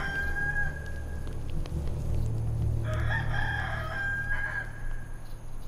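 A rooster crows in a drawn-out, wavering call over a constant low hum, moderately loud and with no voices.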